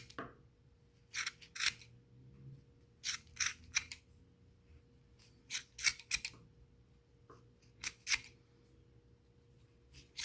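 Scissors snipping crochet yarn on a shih tzu pet hat, a series of short, crisp metallic cuts spaced irregularly over a quiet background, with no one talking.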